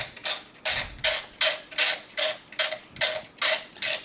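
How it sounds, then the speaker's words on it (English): A hexagonal-handled screwdriver turns screws during PC building work, giving nine evenly spaced ratcheting clicks, each a crisp close burst repeating about every half second, with no talking. "I really like how easy it is to just grab this thing and twist it because it's hexagonal"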